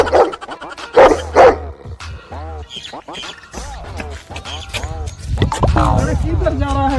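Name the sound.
village dogs barking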